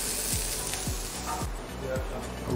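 Chopped onion sizzles in a hot pan at the start of a tarragon cream sauce, giving a steady close frying hiss along with a few soft low knocks.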